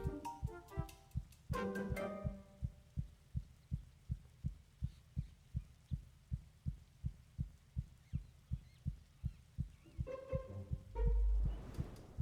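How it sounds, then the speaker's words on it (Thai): A heartbeat sound effect in the Roblox video game Early Dawn pulses in a steady, even rhythm of deep thumps, about two per second, playing alone for the whole stretch. "เสียงหัวใจเต้นอะตึกตักตึกตักอะ"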